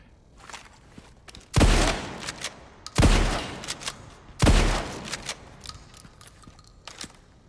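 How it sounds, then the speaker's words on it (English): Three loud, evenly spaced shotgun blasts in a video game, each a sharp boom with a short decaying tail, separated by quieter clicks and handling sounds. "Let me see what this shotgun is like."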